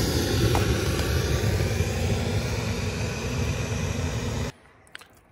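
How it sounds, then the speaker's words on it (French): A camping stove burner roars with a steady, loud, broadband rush for several seconds, then cuts off abruptly into near silence. "C'est un bruit d'enfer, c'est un vrai volcan ce brûleur."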